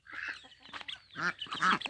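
Farm ducklings quack in quick, close bursts, several short calls tumbling over one another at moderate loudness.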